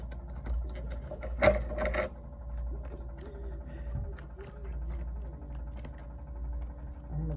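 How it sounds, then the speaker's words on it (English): Tarot cards are shuffled by hand at close range, giving a quiet pattering riffle with one brief louder burst of card flutter and soft handling noises. "I'm gonna shuffle one more"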